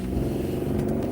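Cars rolling past on a road, a steady low engine rumble that stays even and fairly close for the whole moment, with no voices over it.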